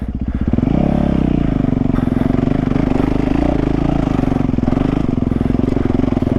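A dirt bike engine running with the clutch slipped, a steady loud mid-pitched drone with slight rises in revs and no real pause throughout.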